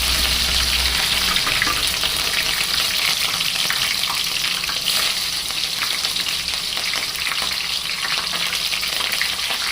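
Green chillies fry in hot oil in a pan, a loud, dense, continuous sizzle and crackle that carries unbroken throughout with no talking.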